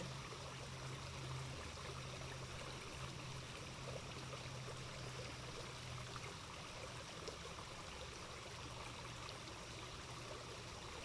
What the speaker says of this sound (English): Allowing your awareness to tune into the sound of the flow of water.